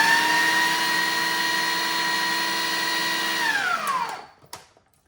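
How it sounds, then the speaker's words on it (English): Mango being chopped in a food processor: a loud, steady motor whine that holds for a few seconds, then spins down and stops, followed by a couple of faint clatters. "the mango really resists being chopped up in the food processor"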